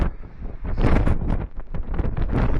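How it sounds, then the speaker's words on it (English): Strong gusting wind on Mt Shasta roars and thumps against the microphone for a few seconds, loud and continuous with rushing bursts. "Super windy and all the snow got blown off the mountains."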